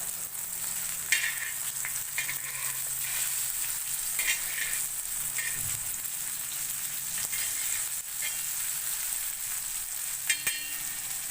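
Stuffed pomfret fish fries on a tawa, a continuous close sizzle with crackling spits and brief scraping or stirring touches, no talking.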